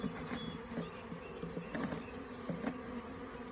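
Honeybees from a package buzzing in an open hive, a dense, fluctuating drone of many wings close by with small knocks and bumps, no voices.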